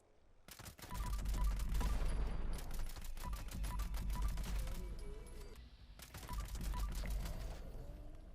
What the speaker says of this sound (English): Don't sleep on the Tommy gun.